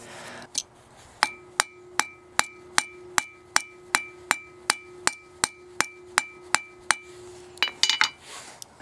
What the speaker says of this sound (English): I'm not hammering very hard when starting the rivet, so I can make sure the washers are staying on.